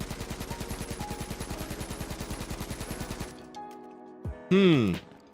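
Automatic assault rifle fire in the PS4 game H1Z1: a rapid, even burst of about thirty shots lasting a few seconds, then a short silence before a brief sliding mechanical sound.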